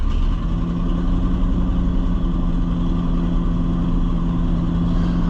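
A 1969 Ford F600 truck engine idles close up with a steady, even low rumble and no talking.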